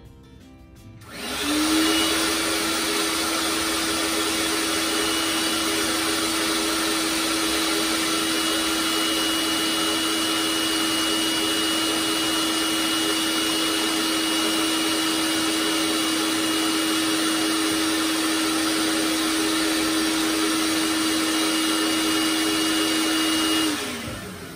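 A TESUP Atlas X 750 W vertical-axis wind turbine spins up about two metres away, giving a loud, steady mechanical whir with a sustained tonal hum that holds level for over twenty seconds before easing off at the end.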